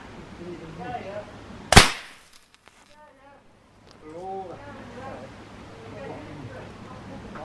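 A balloon burst by a Flare45L balloon burster gives one loud, sharp pop that cuts off quickly, with people talking before and after it.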